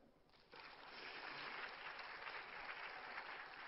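A congregation at a church gathering breaks into applause, starting quietly and quickly swelling into a steady, full roar of clapping that carries on to the end.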